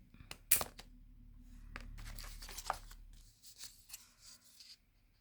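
Scissors cut paper for an art journal, the blades slightly too large for the job. Close, quiet snips and rustling, with a sharp first cut and then a run of short cuts and paper handling.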